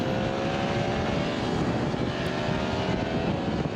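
A Yamaha MT-10 SP liter-class naked sportbike engine drones steadily and loudly throughout, a continuous broadband roar with wind noise and no clear breaks between gear changes.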